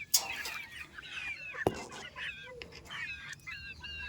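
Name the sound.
chickens for sale clucking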